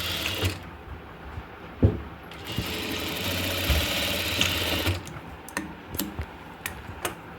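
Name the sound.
sewing machine stitching a nightdress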